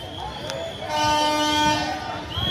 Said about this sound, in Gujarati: હોરન મારતી મારતી આવે છો ટ્રેન.